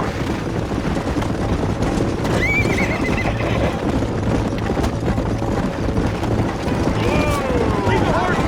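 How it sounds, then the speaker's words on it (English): A horse whinnies and hooves clip-clop amid a dense, noisy game soundtrack in Red Dead Redemption, the neigh rising briefly early and a fainter one near the end, with ongoing rumble and activity throughout. "Leave the horse."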